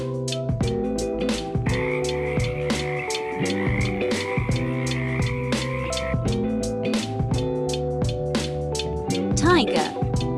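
A frog croaks in a steady pulsing rhythm, loud and close, mixed with overlapping animal calls and a backing of tonal music.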